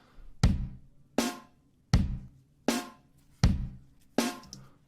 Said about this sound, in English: we're going to add a snare drum on beats 2 and beats 4.